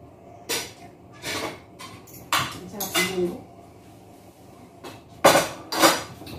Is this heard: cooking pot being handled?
yes